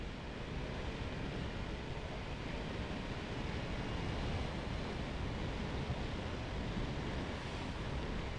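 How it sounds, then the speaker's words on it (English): Wind rushes steadily past a rider on a 2023 BMW S1000R Sport motorcycle on a dual carriageway, a dense, loud buffeting roar filling the whole span without break or talk. "The wind's just pushing against my chest."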